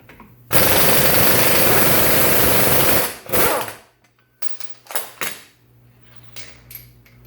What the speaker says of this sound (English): And remove the axle nut.